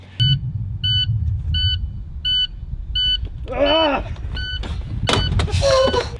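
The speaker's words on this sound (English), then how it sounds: "heard that super annoying buzzer that just never seems to stop" A high electronic warning buzzer in an International truck beeps in a steady repeating pattern over a low engine rumble, with a brief shout and some squeaky noises near the end.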